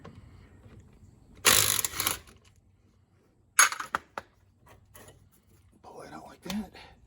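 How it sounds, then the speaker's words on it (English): A ratchet loosens the 14 mm bottom bolt on the front brakes of a Jeep Cherokee Trailhawk: short bursts of quick clicking and metallic rattles come close and loud, separated by quiet pauses. "We're going to do this bottom bolt, which happens to be a 14."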